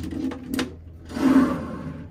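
A deep desk drawer in a cruise ship ocean view balcony cabin sliding open and shut, two short knocks followed by a louder sliding thud, close and clear.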